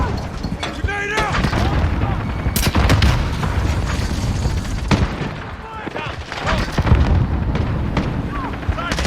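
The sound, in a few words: grenade explosion and gunfire in a Call of Duty video game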